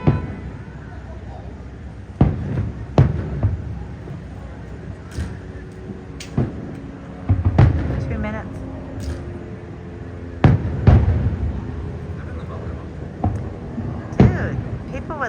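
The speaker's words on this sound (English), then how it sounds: "People never see fireworks." Fireworks bursting outdoors, a series of sharp booms and cracks spread across the stretch, some close and loud, others softer, with people chatting in between.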